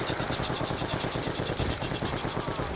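HAMR machine gun from Call of Duty Zombies on the Farm map, firing in one loud, unbroken rapid burst of automatic shots that runs the whole time, with no talking.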